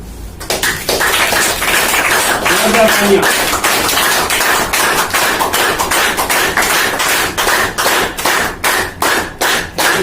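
Audience at a business opportunity programme clapping loudly, a sustained burst of many hands that breaks into sharp, evenly spaced rhythmic claps toward the end.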